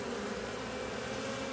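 Gentle honeybees swarming around a beekeeper at an open hive, a steady close buzzing drone with no speech over it.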